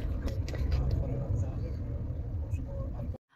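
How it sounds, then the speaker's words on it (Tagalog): A car driving in road traffic, a steady low engine and road rumble heard from inside with a few faint clicks and knocks, a voice talking over it, cutting off abruptly near the end. "Grabe din pala yung traffic sa daan."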